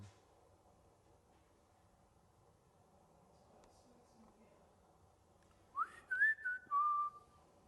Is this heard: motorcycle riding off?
no